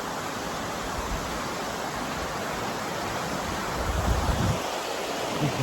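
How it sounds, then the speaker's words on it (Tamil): Hebbe Falls roars as a constant broadband rush of falling water, loud and unbroken, with a brief low rumble partway through, no voices heard. "அருவி அருவி சவுண்டு கேட்குதுங்களா?"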